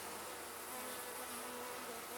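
Honey bees buzz around an open hive during an inspection, a steady, dense, soft drone of many wings with no other sounds.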